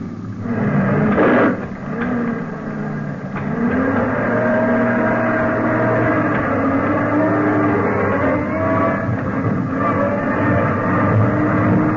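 Truck convoy engines roar steadily throughout a 1953 old-time radio drama, a loud, continuous low rumble that swells slightly as the vehicles move along a curving road.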